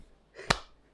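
A single sharp hand clap rings out once, close and crisp, made for an audience, then quickly fades into a quiet background.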